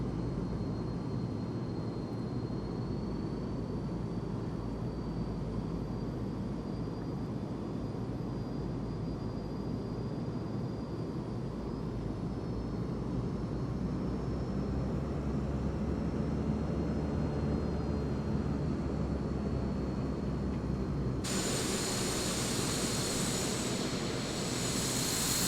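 Simulated Black Square King Air twin turboprop engines in Microsoft Flight Simulator 2020, a steady, fairly quiet broadband roar with a faint high whine, continuous while taxiing, brightening with a burst of hiss near the end.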